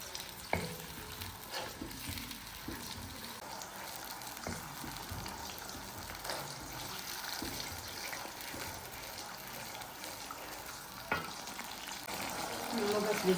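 Onions fry gently in a pot while a spoon stirs them, a soft steady sizzle with occasional scraping taps against the pot, fairly quiet throughout.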